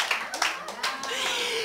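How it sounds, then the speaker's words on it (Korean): A church congregation at a Wednesday service bursts into a short round of clapping, a few sharp claps swelling into brief applause, with voices speaking over it. "박수 쳐줘야 돼요."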